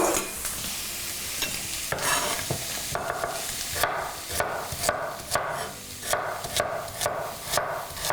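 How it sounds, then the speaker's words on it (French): Ingredients browning quickly in a hot pan, a constant sizzle broken by repeated scraping and knocking of a utensil against the pan, growing busier and more rhythmic toward the end. "Je vais juste les dorer vite."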